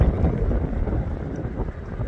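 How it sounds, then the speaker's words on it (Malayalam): Strong wind gusts outdoors, a loud, constant low rumble buffeting the microphone for a couple of seconds with no break and no speech. "നല്ല കാറ്റടിക്കുന്നുണ്ട്"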